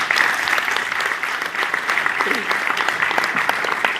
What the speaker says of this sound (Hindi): वाह, जोरदार तालियां दोस्तों।